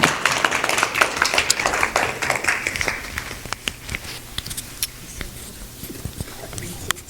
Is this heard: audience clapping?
yes